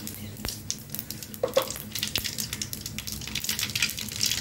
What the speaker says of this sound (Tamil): கடுகு நல்லா பொறிச்சு வரட்டங்க.